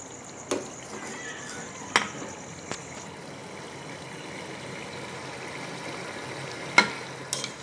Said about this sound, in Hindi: मसाले को अच्छी तरह से 2 से 3 मिनट के लिए भून लेंगे